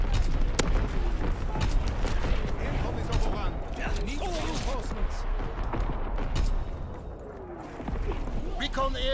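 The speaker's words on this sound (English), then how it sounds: "Coming Fritz X bomb." A Fritz X guided bomb strike in Call of Duty WW2 on the Ardennes Forest map, a dense stretch of booming blasts and gunfire cracks layered over constant battle noise, with game voice announcements mixed in.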